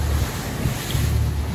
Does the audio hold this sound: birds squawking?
no